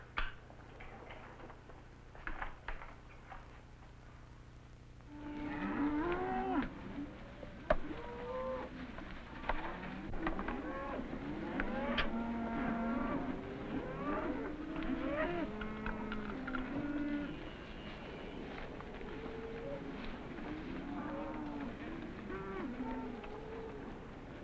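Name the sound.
cows mooing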